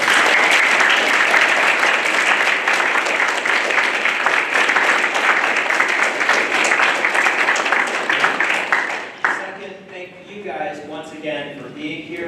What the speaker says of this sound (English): let's give thanks and a round of applause